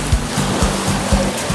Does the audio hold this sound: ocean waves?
yes